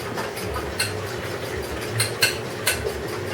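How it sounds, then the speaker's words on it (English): Banana berry pancake batter being stirred in a bowl, heard as scattered light utensil clinks and scrapes over a soft steady background, with a few sharper taps near the end. "I'm going to stir that up right here"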